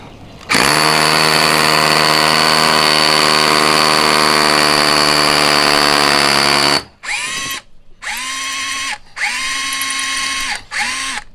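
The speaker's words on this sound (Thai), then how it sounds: "ลองเจาะให้ดูก่อนแล้วกันว่า ถ้าใช้โรตารี่มันเร็วขนาดไหน" A Makita HR166 12V cordless rotary hammer drills steadily for about six seconds with a strong, even whine. It then runs in three shorter bursts separated by brief pauses, all up close with no voices.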